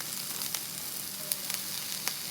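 Frozen peppers hitting a hot frying pan give a steady, moderate sizzle, with a few sharp crackles and pops standing out from the hiss.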